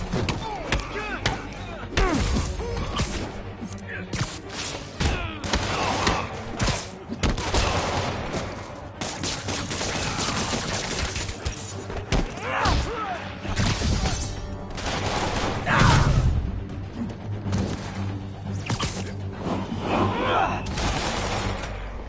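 Bursts of gunfire crackle from armed enemies in a Spider-Man video game, rapid volleys and single shots mixed with impacts and slams, loud and dense throughout with game voices layered in.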